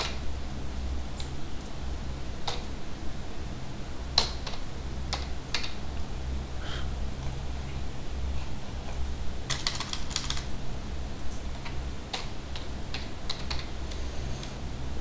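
Keys clack on a computer keyboard as C code for a simple Hello World program is typed, steady irregular taps with occasional quick bursts over a low constant hum, no talking.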